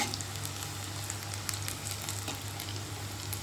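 Onion bajji (pakoda) batter fritters fry in oil with a dense, continuous crackling sizzle, close and even throughout, no voices.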